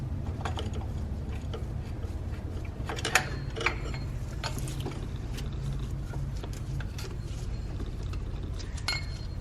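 A ratchet loosens 15 mm tensioner bolts on a Cadillac STS engine, giving scattered metallic clicks over a steady low background hum, with no talking.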